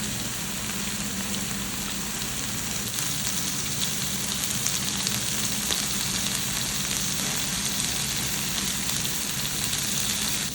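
Tandoori prawns sizzle in a hot pan after being turned over, a steady close crackling hiss that holds evenly throughout without pause.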